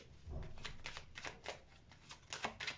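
Tarot cards being shuffled by hand, a quiet, close run of rapid riffling flutters in quick repeated bursts with no voice over them.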